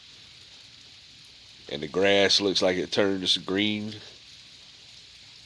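Steady rain hisses down over trees and grass as a soft, even wash, while a person talks clearly over it in the middle stretch.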